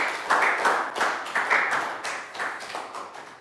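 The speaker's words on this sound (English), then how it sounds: "Big round of applause for Chu." Young schoolchildren in a classroom clap together for a classmate, a steady patter of many hands that swells in rhythmic waves and gradually fades over a few seconds.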